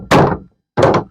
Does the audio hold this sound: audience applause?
no